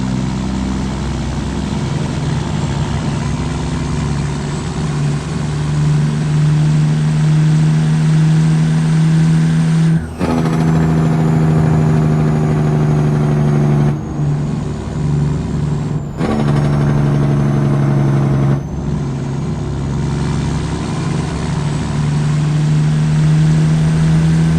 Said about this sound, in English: If you want to hear what this truck sounds like in the outside view, I'll let you have a listen for it now.